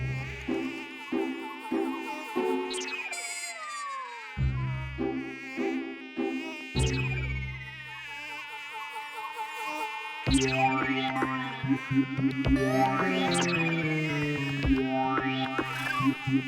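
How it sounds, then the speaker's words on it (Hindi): A comedic mosquito buzz in a children's comedy show: whining tones swoop up and down repeatedly, mixed with musical notes and effects, over about sixteen seconds. "ये मच्छर कहाँ से है आया जिसने हमें है इतना सताया?"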